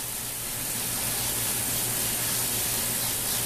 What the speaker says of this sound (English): I like to use cold water and spray them off really well.